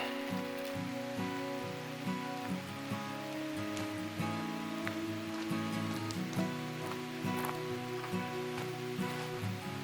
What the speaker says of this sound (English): It's nice to have this tree cover protecting me from the rain.